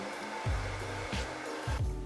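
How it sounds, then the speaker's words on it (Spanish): A hair dryer blows on hair while a bang is styled in a Korean fashion. Its steady whir pulses as the airflow is moved on and off the hair in short sweeps, close and loud, with no speech. "Y voy a pasar el secador de pelo."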